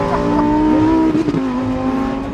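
A Lamborghini Huracan STO engine roars loudly up close, revving hard under acceleration with a harsh, throaty Akrapovic exhaust note that shifts pitch midway.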